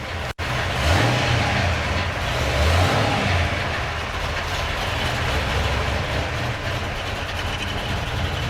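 A 1957 Chevy engine runs steadily, a rough continuous rumble with a broad hiss of noise over it, fairly constant in level after a brief cut near the start.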